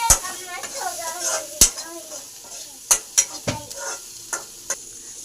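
A spoon stirs food with turmeric and salt in a pan, giving a series of sharp clicks and scrapes against the metal over a faint sizzle, with a voice briefly in the background.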